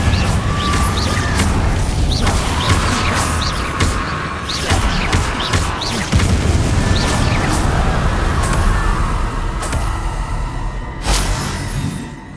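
Confringo fire spells bursting against inferi in the Hogwarts Legacy video game, a loud sustained barrage of booming blasts and crackling impacts with repeated whooshing spell casts.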